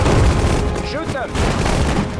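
Gunfire crackles during a World War II battle in the Sudden Strike 4 strategy game, a dense fusillade of overlapping shots and booms, with brief game voice effects mixed in.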